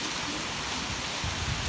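Heavy rain falls in a severe warned storm with 40 mph wind, lightning and penny-size hail, a steady dense hiss with no voices.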